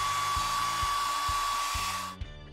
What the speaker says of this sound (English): I'll blow dry my long hair.